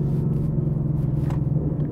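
Low, steady V8 rumble of a 2018 Ford Mustang GT with a Borla aftermarket exhaust, heard from inside the cabin while driving, a constant deep drone with slight pulsing.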